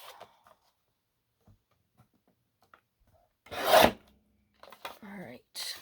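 Card paper trimmed for handmade cards, with a single brief scraping cut up close after near silence, followed by soft rustling and a short murmured voice.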